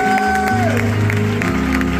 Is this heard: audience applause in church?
yes